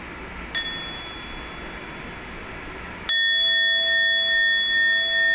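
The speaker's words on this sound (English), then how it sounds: "just gently bring your attention and your awareness back to the sound of the bell." A mindfulness bell is struck twice during a meditation workshop: a soft ding, then a louder, clear ring whose steady tones linger and slowly fade.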